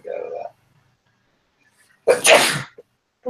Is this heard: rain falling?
no